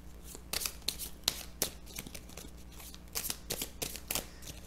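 Tarot cards being shuffled for a reading, close and quiet, with repeated quick riffling bursts and soft papery flicks in an uneven rhythm and no talking.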